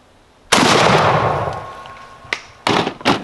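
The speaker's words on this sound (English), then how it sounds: "First up is the segmented slug. I'm going to shoot them on the left." A JTS AK12 shotgun fires segmented slugs outdoors: one loud blast with a long rolling echo, then two more sharp reports in quick succession near the end.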